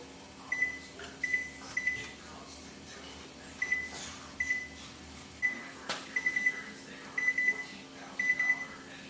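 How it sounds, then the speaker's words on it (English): A kitchen timer goes off beside a stove during cooking, sounding repeated short bursts of sharp electronic beeps in an uneven rhythm, loud and close, with a steady hum underneath. "our timer has gone off for that 1 minute"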